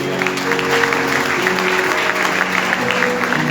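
A church worship congregation in Lahore applauds loudly and steadily, dense continuous clapping with a low musical hum underneath throughout.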